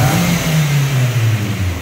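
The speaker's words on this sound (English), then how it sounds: "there's a man here who's going to rev the engine" A car engine is revved hard in a workshop check of boost, MAP and baro sensors, a loud, steady engine roar with a deep pitch that sags slightly as the revs fall back, heard alone without talk.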